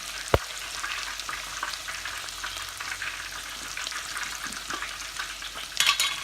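Food browns in olive oil for a quick home-cooked dish, a loud close continuous frying sizzle with scattered spatters and stirring scrapes, a sharp clack near the start and a brighter burst of sizzle at the end.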